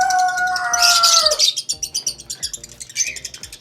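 Lovebirds in a breeder cage chirp in a quick, rhythmic series of close, sharp tweets, with a louder burst of squawking calls at the start.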